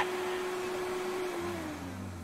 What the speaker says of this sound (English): So Alexander sleeps on the noise of the vacuum cleaner